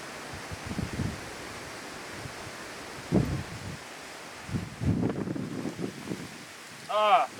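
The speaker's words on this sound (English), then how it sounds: "Ah, the wind." Wind blowing outdoors beside a Cord King M18-20 firewood processor, a steady rushing roar with gusty rises and microphone buffeting, a few low thumps, and a brief higher whine near the end.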